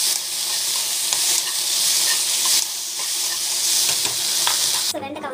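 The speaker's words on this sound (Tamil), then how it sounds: "ஸோ வெண்டைக்காய் வந்து இந்த மாதிரி வறுத்துக்கணும்." Okra sautéing in oil in a pan, a loud continuous sizzle with repeated scraping stirs, ending with a brief lull near the close.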